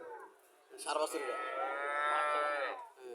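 A three-day-old heifer calf on a dairy farm lets out one long, drawn-out moo, close and loud, with no talking over it.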